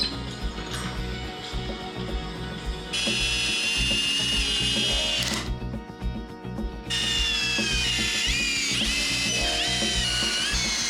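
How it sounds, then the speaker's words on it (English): A power drill whines in long, steady bursts as it drives long screws into a raised reclaimed timber board for a shed door, with brief pauses and pitch shifts as the screws bite deeper, no voices. "The screws were so long, so I had to elevate the board before screwing in"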